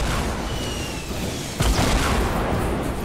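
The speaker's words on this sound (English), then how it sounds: "Oh, explosions!" A single heavy explosion booms out midway in Fortnite Battle Royale, where golf kart guided rockets are in play, bursting loudly over a steady wash of game noise and rumbling on afterward.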